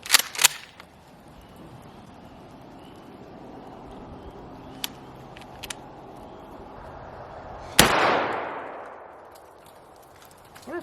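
Shotgun blasts fired at a dead widowmaker tree: a few sharp cracks early on, then one loud close blast at about eight seconds followed by a long fading rush, with no talking.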